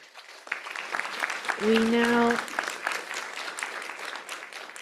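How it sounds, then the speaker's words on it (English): Audience applause for Kirby at the close of a symposium talk on improvisation, a steady wash of clapping across the room, with a brief voiced tone rising above it midway. "Round of applause."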